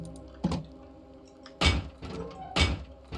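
Doors are placed while building a base in the video game Rust, giving three separate heavy thunks spaced about a second apart over faint background hum.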